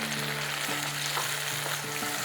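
Bottle gourd cooking water is poured over spice paste frying in a pan for a Bengali vegetarian gravy, producing a continuous close, dense sizzle with steady bubbling.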